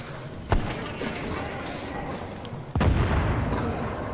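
Sticky bomb blast in The Division shooter, with gunfire rumbling throughout and two heavy booms, the second deeper and longer, followed by a sustained low roar.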